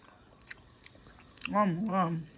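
Someone eats palusami, a Samoan dish of corned beef, with a few soft, close chewing and biting clicks, followed by an appreciative hummed 'mmm'.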